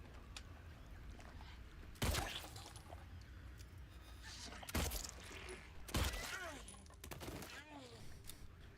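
Gunfire in the survival horror game Silent Hill 2 Remake: three loud, separate shots spaced a few seconds apart, each with a sharp crack and echoing tail, over a low ambient background.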